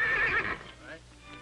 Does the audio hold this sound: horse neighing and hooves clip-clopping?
yes